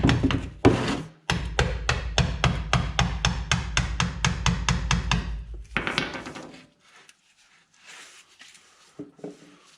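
Gasket scraper prying at a fluid pan under a Chevrolet/GMC truck, a fast series of sharp metallic taps and knocks that stops abruptly, followed by faint scraping and quiet handling sounds.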